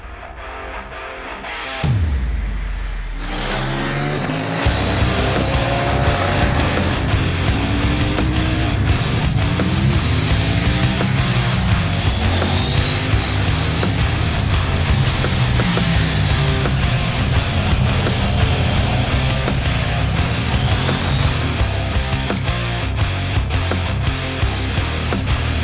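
A 2021 KTM 890 Duke motorcycle being ridden, its engine a loud, continuous drone that starts up after a brief quiet moment and holds steady throughout, with rising and falling revs and no voices.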